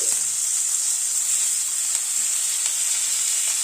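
Potato and cauliflower frying in a pan, a steady high, even sizzling hiss held close throughout, with no stirring or voices.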